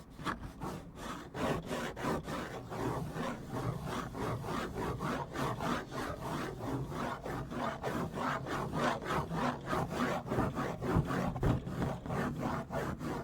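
Close, steady scratching on a wooden surface, a rapid rhythmic rasping like sawing or filing that runs unbroken for the whole stretch, with no talking over it.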